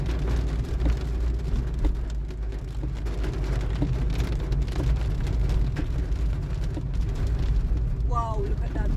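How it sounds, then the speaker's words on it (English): Heavy flood rain pouring down in Fern Gully, Jamaica, a dense continuous roar of water with rumbling low noise, heard from inside a moving vehicle. "Fern Gully in the flood rain"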